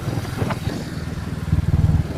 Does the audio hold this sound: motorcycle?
yes